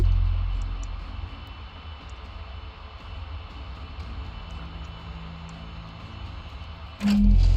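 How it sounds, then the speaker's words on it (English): Bombers in a strategy video game fly in with a steady, droning engine rumble that holds evenly for several seconds before a louder burst near the end. "we've got some 100 mil bombers now coming in."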